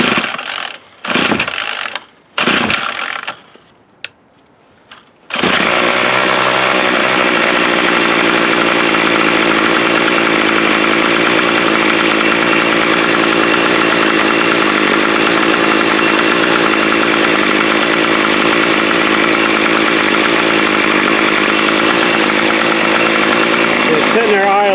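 A Troy-Bilt TB22 string trimmer's small two-stroke engine sputters through a few short bursts, then settles into a steady, loud buzzing idle that runs on unchanged.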